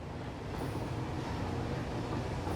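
A train in the video game Satisfactory rumbles along steadily, a dense continuous rolling roar with faint clattering throughout and no voices.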